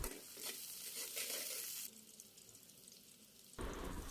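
Chopped onion and whole garam masala spices fry in hot oil with a continuous close sizzle and hiss, its texture shifting as they are stirred, with no talking.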